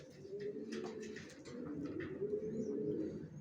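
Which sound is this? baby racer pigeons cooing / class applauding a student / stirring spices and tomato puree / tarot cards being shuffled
baby racer pigeons cooing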